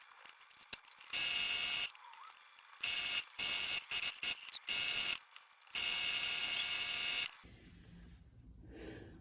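A sewing machine stitches decorative stitch 74 along a bag, loud whirring bursts starting and stopping in uneven runs, several short bursts then one long stretch before it stops, with quiet handling in between.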